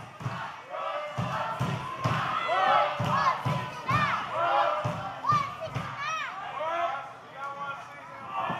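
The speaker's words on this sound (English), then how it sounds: "The crowd trying to rally." A wrestling crowd at a live heavyweight title event rallies with rhythmic chanting and shouted cheers, driven by a steady beat of stomps or claps roughly twice a second, loud and close, with individual voices rising above it.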